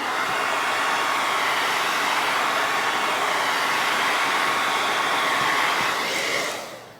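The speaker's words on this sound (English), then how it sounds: "I'm gonna hit the blow dryer one more time." A blow dryer runs with a steady, loud whooshing roar that holds constant, then cuts off and fades away at the very end.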